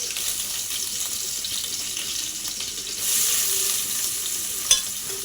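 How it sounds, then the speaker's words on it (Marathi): Chopped onion, ginger-garlic paste and green chillies fry in a pan for a cheesy masala macaroni, a steady close sizzle with stirring that swells briefly when the mixture is moved. "त्यानंतर आपण टाकू अद्रक लसणाची पेस्ट आणि चिरलेला बारीक कांदा."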